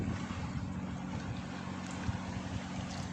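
A boat moves on open water, heard as a faint, steady low engine drone mixed with wind noise and soft lapping waves throughout, with no voices.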